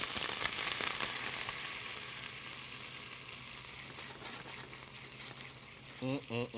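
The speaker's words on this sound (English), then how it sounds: "right before we start to burn that garlic right there, I'm going to go ahead and hit it with our vinegar" Red wine vinegar hits frying garlic in a hot pan, producing a loud burst of sizzling that gradually settles into a steady hiss, with brief low voice sounds near the end.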